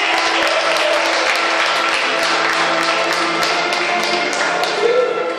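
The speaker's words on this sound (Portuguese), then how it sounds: "dar uma salva de palmas para Jesus e glorificar o nome dele" A congregation in a church gives a steady round of applause in praise of Jesus, a dense wash of clapping that holds evenly throughout, with faint voices mixed beneath.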